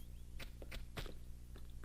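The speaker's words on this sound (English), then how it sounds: "I can hear more footsteps." Footsteps in the Venice level of the video game Tomb Raider II Remastered, several soft, fairly even steps over a steady background, with no talking.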